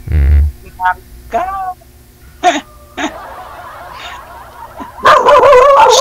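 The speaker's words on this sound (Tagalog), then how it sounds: "Pati yung aso, sir. Tumahol na." A dog gives several short, separate barks and yips spaced over a few seconds, fairly close, with people talking at the start and end.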